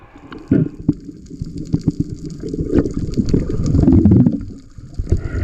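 A small boat heads into oncoming waves at sea, with loud, uneven water splashes and gushes slapping close against the hull, building to a heavier surge before easing.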